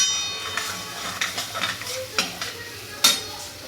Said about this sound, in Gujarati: જ્યાં સુધી તેલ છૂટે ત્યાં સુધી આ બધા મસાલાને એકદમ ચડવા દેવાનું